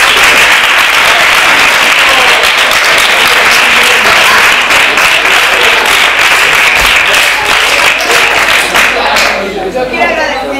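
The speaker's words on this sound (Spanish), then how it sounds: "Vamos a hacer un aplauso." Sustained audience applause fills a talk at the Barcarrota library, loud and dense with steady clapping throughout, some murmuring mixed in, thinning out near the end.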